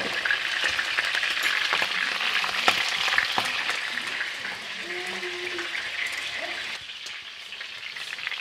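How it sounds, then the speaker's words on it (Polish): Salted lamb ribs fry in a pan with a continuous crackling sizzle, close and fairly quiet, with a few sharper pops and brief soft stirring or scraping sounds as the pieces are turned. "smażymy tak naprawdę krótko, tak żeby nam mniej więcej złapał się ten kolorek"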